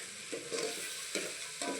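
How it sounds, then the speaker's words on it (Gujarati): Spices for a khichdi tempering sizzle steadily in hot oil, a constant close hiss broken by a few soft stirring scrapes, with no voices. "જોઈ લો બધું વઘારનો વિડીયો લ્યો કેવો મસ્ત વઘાર થઈ ગયો છે"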